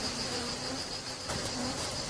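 Bees leaving their hive: a steady, dense insect buzz and hum, close and continuous, with a faint high whine running through it.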